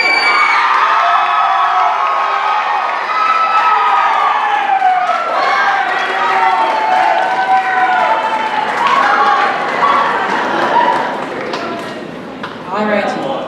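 Loud cheering, whoops and clapping fill a school choir spring concert at Durango High School, a sustained, bright crowd roar that holds for several seconds and then thins toward the close.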